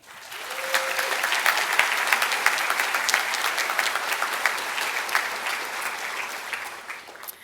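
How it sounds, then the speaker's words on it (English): A crowd at a medical school white coat ceremony claps steadily and loudly for several seconds, a dense sustained applause that tapers slightly toward the end. "I want everyone here to give a round of applause once again to the class of 2028."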